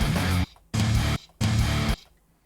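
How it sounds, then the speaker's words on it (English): Three strummed open-note power chords on a guitar, the lowest chord the player can make, each ringing fully for about half a second before being cut off, with short silent gaps between them. "And it's a power chord, meaning it sounds like this."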